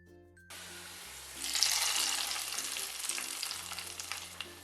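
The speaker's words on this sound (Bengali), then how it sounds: "এবং পেঁয়াজ এবং রসুন কুচি। এগুলো ব্রাউন করে ভেজে নেব।" Chopped onions and garlic fry in hot oil with whole cumin for khichuri, a steady loud sizzle rising after a quiet start and continuing evenly, with faint stirring and a low hum underneath.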